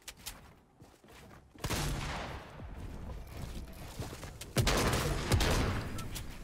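Gunshots in a Fortnite solo match, a few sharp, fairly quiet bursts of shots and impacts spaced apart with game noise between them.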